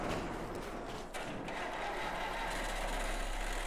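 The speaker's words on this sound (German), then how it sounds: "Wir öffnen die Tore, starten den Motor und legen los." A combine harvester engine in Farming Simulator 22 starts up inside a corrugated-metal shed, with a brief mechanical crank followed by a steady, low idling rumble and hum that holds evenly to the end, without talk.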